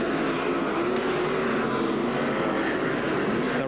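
Sprintcars race down the back straight at Archerfield Speedway during the 1996 Australian Sprintcar Championship Final, a continuous dense engine roar that stays loud and unbroken.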